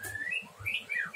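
A prenjak (prinia) chirps while a leg ring is fitted, giving a few short rising and falling whistled calls over about a second, fairly close and clear, with some handling noise underneath.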